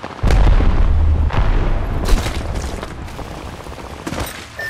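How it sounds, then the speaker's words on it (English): Arc star grenade blast in the Apex Legends video game: a heavy booming detonation followed by further loud crackling bursts and rumbling impacts over a few seconds, with no voices. "Throwing arc star."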